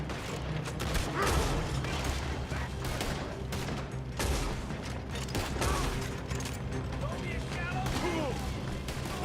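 Gunfire crackles through a shootout in the video game Red Dead Redemption 2, rapid overlapping shots and mechanical clatter running steadily throughout, with a voice faintly heard in the mix.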